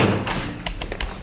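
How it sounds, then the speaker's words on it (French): Several sharp knocks land on a door in a quick irregular cluster, close and fairly loud, with no talking over them. "qu'est-ce qui frappe à la porte?"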